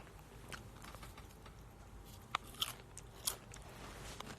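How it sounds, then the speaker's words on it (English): Crunchy Doritos chips bitten and chewed close by, with a few sharp crunches standing out over a quiet background. "That's a Dorito, bro."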